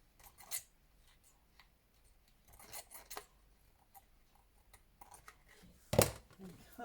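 Scissors trimming paper wallpaper tags make a few separate snips and crisp cuts spaced across a quiet room, with one sharper cut near the end.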